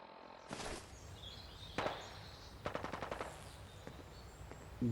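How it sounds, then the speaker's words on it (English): Gunfire from a distance in Fallout: London, with scattered single shots followed by a quick rattling burst of automatic fire, set against faint outdoor ambience, with no talk. "Gunfire is what we have over there."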